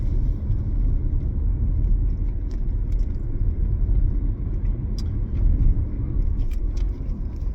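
A car is heard from inside while driving, with a steady, loud low engine and road rumble that continues throughout and a few faint rattles on top.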